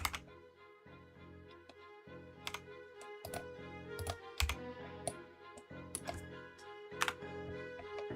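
Computer keyboard keys are tapped in irregular clicks and sharper clacks over a quiet steady hum, close and fairly soft, as someone works in Blender.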